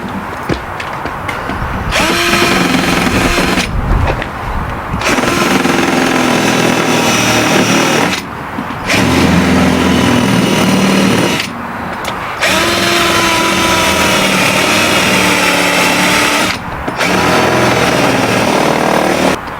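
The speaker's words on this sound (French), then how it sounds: "Il faut que je lime lorsqu'il y a les trous pour venir enfoncer un peu l'agrafe." Enlarging holes with a tool to seat a staple clip during a car-audio install in a Renault Trafic van: a loud, close, whining grind comes in four long bursts separated by short pauses.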